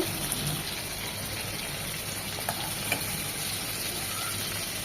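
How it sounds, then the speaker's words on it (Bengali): Prawns frying in a pan give off a steady, busy sizzle with fine crackles throughout, close and fairly loud, with no talking. "ওই পাশ করে এরকম এক মিনিট ভেজে নেব"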